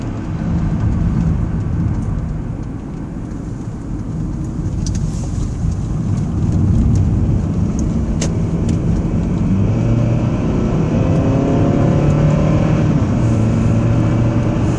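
A car driving through town on a clear day while turning left, heard from inside as a steady low road and engine rumble with faint tire hiss, continuous and moderately loud, no talk.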